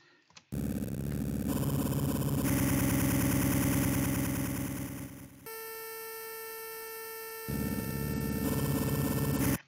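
A synthesized whine-like chiptune sound effect built in the MilkyTracker tracker for GB Studio Game Boy music. It plays as a steady, buzzy electronic tone that shifts partway through to a thinner, purer whine, then returns to the fuller buzz before cutting off.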